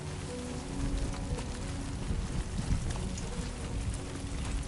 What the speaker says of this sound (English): They're throwing rain and earthquakes and...